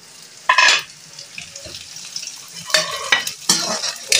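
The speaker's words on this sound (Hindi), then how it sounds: "अब मैं इसमें साबुत मिर्ची डालूंगी। और ये हरी मिर्ची भी डाल दूंगी" Whole red and green chillies drop into hot oil with softened onion in a pan, bursting into short hissing sizzles. Faint stirring and scraping sounds fall between the sizzles.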